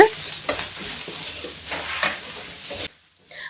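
Spice powders in oil sizzle and crackle as they are stirred in a pan for mutton curry, with scraping strokes, then a sudden drop to near silence before a faint hiss returns.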